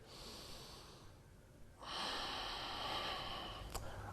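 Slow breathing during a yoga core exercise, a soft exhale followed by a longer, stronger airy breath up close, with no talking.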